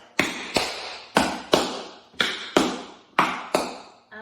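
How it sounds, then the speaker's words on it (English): Crisp tap-shoe strikes on a hard floor, nine sharp metallic taps in uneven paired groupings: flap, heel, heel, spank, heel, toe, heel. Close and clear with no talking. "the step sounds like flap, heel, heel, spank, heel, toe, heel"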